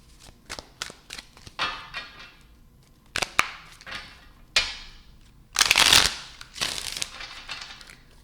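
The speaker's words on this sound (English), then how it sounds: "One more shuffle, and let's see what we got for you, Leo." A deck of tarot cards is shuffled close by, with scattered soft flicks and taps building to a louder, dense riffling burst, then quieter handling of the cards.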